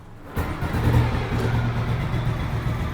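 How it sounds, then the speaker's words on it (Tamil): A fully restored Royal Enfield motorcycle with a G2 engine and original silencer exhaust starts up, then settles into a steady low thumping idle close by, loud and even. "ஸோ இன்ஜினோட தம்ப் கேளுங்க."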